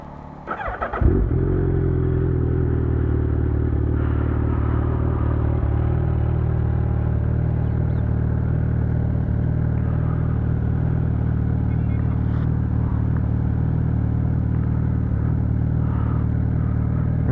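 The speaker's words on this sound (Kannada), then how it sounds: "ಇದು ಒಂದು ಲೆಕ್ಸ್ಟೆಕ್ ಎಕ್ಸಾಸ್ಟು. ಸೌಂಡ್ ನೋಟ್ ಹೇಗಿದೆ ಅಂತ, ಎಕ್ಸಾಸ್ಟ್ ನೋಟ್ ಹೇಗಿದೆ ಅಂತ ಕೇಳಿಸ್ಕೊಳ್ಳೋಣ ಬನ್ನಿ" Suzuki Hayabusa fitted with an aftermarket Lextek exhaust starts up and settles into a loud, steady, deep idle rumble, close and alone with no talk.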